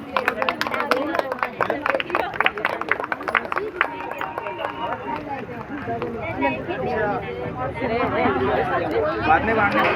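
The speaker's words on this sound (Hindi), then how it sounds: "जोरदार ताली के साथ, जोरदार।" A church congregation at a Christmas service in Navi Mumbai claps loudly, a dense burst of rapid hand claps at the start that thins into cheering and chatter as voices rise over it.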